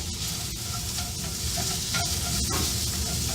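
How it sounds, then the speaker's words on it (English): Onions and garlic fry with pork chops in a hot pan, giving a loud, continuous sizzle with a few soft stirring scrapes and no talking. "Oh, that sizzle sounds amazing"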